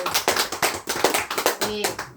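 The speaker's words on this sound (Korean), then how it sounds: "하나님께 영광의 박수" A church congregation claps in praise to God in a steady, rhythmic beat of close, sharp hand claps that runs throughout, with faint voices underneath.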